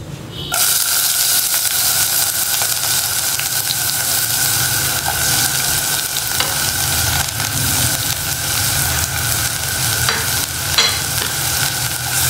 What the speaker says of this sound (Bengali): একটু হালকা ভেজে নিব।